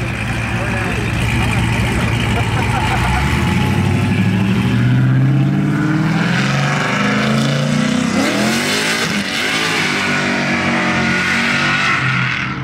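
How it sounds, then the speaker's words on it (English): An LS-swapped car and other cars at a street car meet rev loudly, a rough engine climbing in pitch then dropping and surging again at close range, with people talking over it. "Car's so loud."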